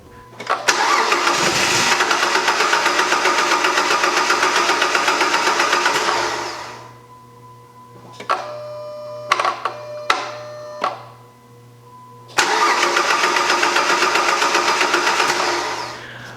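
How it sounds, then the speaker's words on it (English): A Chrysler 300 2.7 engine with a misfire runs loudly at a steady idle, falls silent, sputters through several brief restart attempts, then roars back up and runs steadily again. "Now we'll just run the car and let it die"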